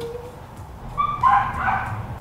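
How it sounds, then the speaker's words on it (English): A dog barks and yips a few times from a short distance in a backyard, sharp bursts over a quiet outdoor background. "Here we are in dog barking capital of the world"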